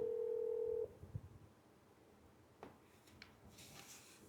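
A telephone call is placed for an upholstery shop: a steady dial tone sounds close for under a second, then stops, followed by faint handling clicks and low background hiss.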